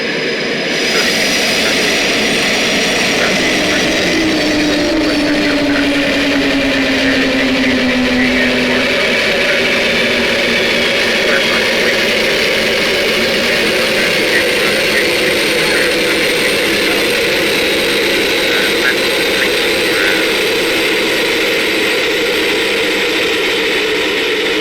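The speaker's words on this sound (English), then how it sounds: "Watch your ears as we spool them down from the outside view," Concorde jet engines spool down in a flight simulator, heard from outside the aircraft: a loud, steady roar with a whining tone that slowly sinks in pitch while the broad rush continues.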